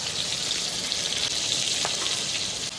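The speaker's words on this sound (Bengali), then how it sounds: "ফোড়ন দেবো জিরে আর তেজপাতা।" Cumin seeds and bay leaf crackle and sizzle in hot oil as a tempering, an even close frying hiss with a faint clink partway through, and no voices.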